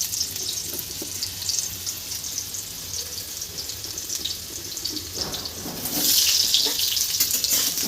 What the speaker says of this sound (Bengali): তো চলো এখন আলুগুলো ভেজে নিই প্রথমে